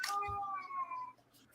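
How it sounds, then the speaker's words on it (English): A 20-year-old cat gives one drawn-out, wavering meow, close and fairly loud, that fades after about a second, with a brief low thump near the start. "it's my 20-year-old cat, Wheezy, who is..."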